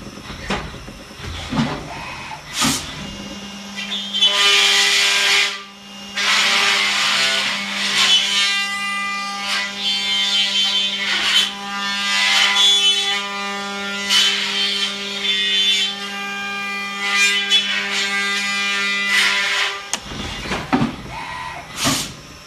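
Holster material being trimmed on a machine, a loud steady grinding and rasping hum with a persistent tonal drone lasting about seventeen seconds, starting and stopping abruptly amid brief handling noises.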